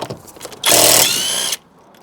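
A cordless Makita-style impact tool on its lowest power setting buzzes in one short, loud burst of about a second, undoing brake bolts on a Fiat 500 during a wheel cylinder and brake shoe job, with quiet handling noise before and after.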